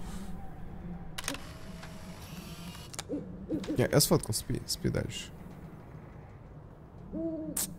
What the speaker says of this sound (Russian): Ладно, разбудили сову, пипец.